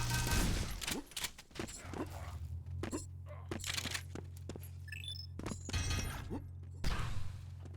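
Super shotgun blasts in a fast arena shooter match, several sharp booming shots amid chaotic game effects, heard under a caster's voice.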